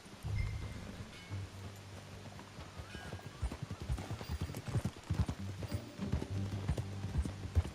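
Horse hooves in Red Dead Redemption 2 clip-clop in a quick, uneven rhythm on the ground, loud and close, with a low tonal hum and rustling underneath.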